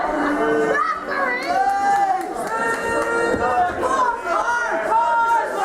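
Crowd at a PWU wrestling show reacting loudly and steadily as McKaigue is attacked from behind and pulled off the top rope, a dense mass of voices with rising and falling shouts that fit booing.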